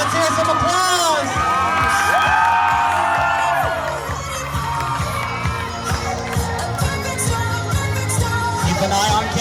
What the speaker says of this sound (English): all right, let's hear some applause.